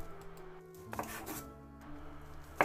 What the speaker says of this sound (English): And then I'll cut it into bite-sized pieces against the line